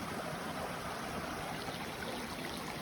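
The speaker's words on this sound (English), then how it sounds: "Another water crossing." Stream water rushes over a trail crossing on the Sam's Knob Loop, a steady, even wash of flowing water heard close and alone.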